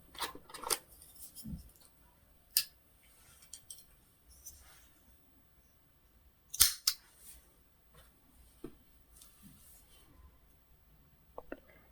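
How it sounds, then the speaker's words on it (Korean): Small snips trim green yarn during crochet work, making a few sharp, close clicks spaced across a quiet stretch, with soft handling rustles between the cuts. "이제 이 풀잎색 실은 쪽가위로 정리를 해줄게요."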